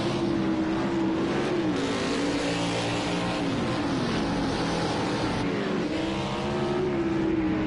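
Race cars roar past on an oval track during a race, engines rising and falling in a loud, sustained drone as several cars sweep by.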